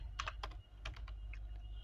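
Keys tapped on a computer keyboard while writing a C program, a quick run of close, light clicks in short bursts over a steady low hum, with no talking.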